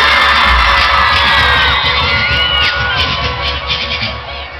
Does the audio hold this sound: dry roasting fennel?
no